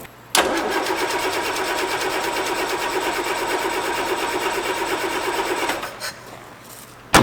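A Land Rover Series 3, abandoned for 24 years, cranks without firing, the starter churning in a steady rhythmic whir for about five seconds before cutting off, loud and close.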